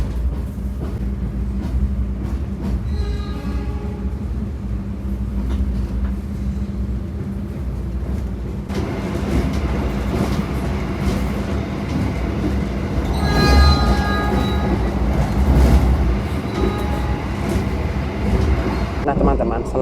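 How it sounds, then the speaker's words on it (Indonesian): Taksaka passenger train standing at Kutoarjo station, with a steady low rumble and engine hum, a brief squeal of wheels midway, and a louder swell of rolling noise toward the end. "rangkaian kereta api Taksaka telah tiba di stasiun Kutoarjo"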